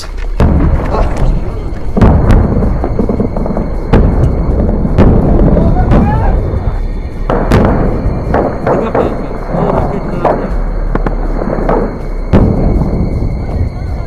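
Battle on the front lines with Taliban fighters opening up as the fighting begins: repeated sharp gunshots and booming blasts crack over a loud, noisy background, with voices talking between the bursts.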